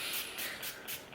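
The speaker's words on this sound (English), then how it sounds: "I'm spraying it with the Dewy Finish Fine Volume NYX long lasting setting spray" Several quick pumps of NYX Dewy Finish long lasting setting spray misted onto a makeup sponge, each a soft close hiss in an even rhythm with no voices.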